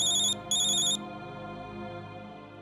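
A telephone rings indoors in a household scene from a Hindi crime drama: two short electronic trilling bursts, clear and near, followed by quiet room tone with no speech.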